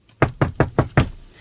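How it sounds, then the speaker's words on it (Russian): Five sharp, evenly spaced knocks on a wooden door, close and loud, each a hollow thud in a quick steady rhythm, with nothing else heard around them. "Но тут в дверь постучали."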